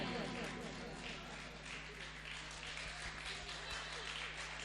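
Faint, steady applause from an audience at an all-India mushaira poetry event at Shiv Palace, Phoolpur, continuing throughout under a voice at a low level.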